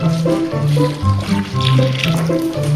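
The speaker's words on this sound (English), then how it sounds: "Now we need to add some water to mix up." Water is poured from near by into a bowl of flour for bread dough. It makes a steady liquid filling sound with gurgling tones that rise and fall over a low background hum.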